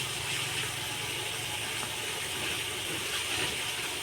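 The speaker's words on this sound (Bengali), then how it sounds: "এখন গাছে জল দিচ্ছে।" Water pours steadily onto garden plants in a home yard, a continuous soft splashing hiss at low level with no talk.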